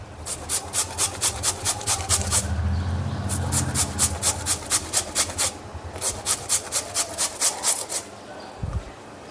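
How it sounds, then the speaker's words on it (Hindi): A peeled potato is rubbed hard against a grater over shredded cabbage, giving loud, rhythmic rasping scrapes in quick bursts of strokes with short pauses between runs. "इस तरह से हम आलू को घिस के इसमें डालना है।"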